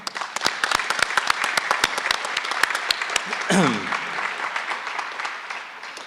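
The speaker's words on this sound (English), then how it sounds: "ask the audience to give a round of applause for Kevin" Audience applause at a 2017 State of the County event, crisp individual claps close by over a fuller crowd, with a brief voice breaking in midway before the clapping continues.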